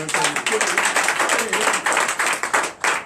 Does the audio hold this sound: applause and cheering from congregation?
yes